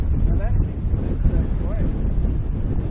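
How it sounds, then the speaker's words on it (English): Strong gusty wind buffeting the microphone at a boat ramp on St. Vincent Island, a loud, steady low roar with fluctuating surges; faint voices may be mixed in beneath the rumble. "It's a little breezy out here today."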